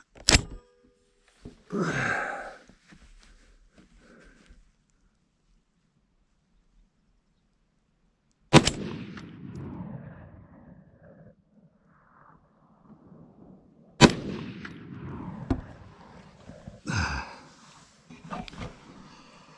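An LR308 A5 rifle with heavy buffers fires Winchester M80 surplus ammunition at a reduced gas setting, three loud close booms spaced several seconds apart, each trailing into outdoor echo and rustling handling noise.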